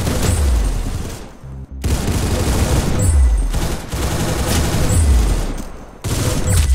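Rapid gunfire in the shooter game Arsenal, loud bursts of automatic fire with booming low thumps, repeating in several long volleys separated by brief gaps.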